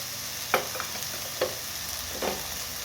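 Whole masoor dal masala frying in a pan, with a low sizzle running throughout and three distinct scraping stirs of a spoon against the pan, spaced about a second apart, close and fairly quiet.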